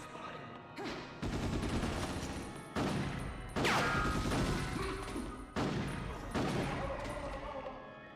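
Shotgun blasts in a video game: five loud booming shots spaced a second or two apart, each trailing into a ringing decay, with no voices.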